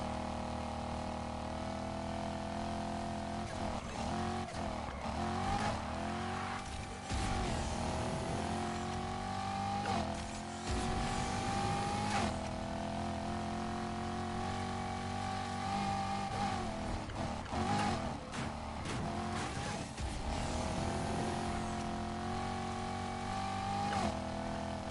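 Race car in Need for Speed Heat accelerating hard with nitrous, a steady engine roar rising and falling through gear shifts with sharp transient bursts, loud and continuous for the whole stretch with no talking.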